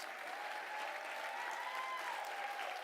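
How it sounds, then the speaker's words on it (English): Faint, steady applause from an audience at a scholarship awards ceremony, heard at a distance with a tone running through it. "Give yourselves a nice round of applause, too."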